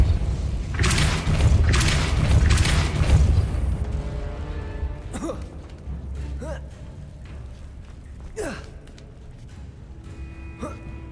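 A Depulso spell impact in Hogwarts Legacy: loud heavy booming thumps cluster in the first few seconds, then fade into quieter rumbles with scattered short whooshing effects.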